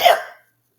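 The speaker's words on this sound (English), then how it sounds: "It gives us hiccups." A single sharp hiccup from a little penguin character, loud and close, a brief burst that fades out quickly into silence.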